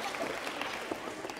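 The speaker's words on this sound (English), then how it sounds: "Give Fernando a big round of applause." An assembly audience claps for Fernando in a short, steady patter of applause filling a room, moderately loud and continuous throughout.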